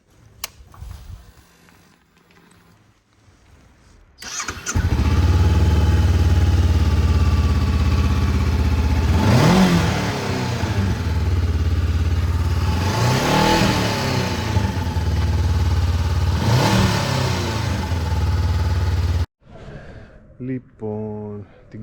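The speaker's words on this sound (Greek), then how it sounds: "Για να το ακούσουμε λίγο και το μοτόρι." A Honda NX500 motorcycle engine fitted with an upgraded DNA Stage 1 and 2 air filter idles loudly close by and is revved in three rising bursts with a steady idle between them, with a voice heard briefly before and after.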